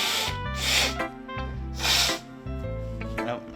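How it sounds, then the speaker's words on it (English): Two breathy nasal blasts of someone blowing their nose, close and fairly loud, about a second apart, over steady background game music. "I need to blow my nose"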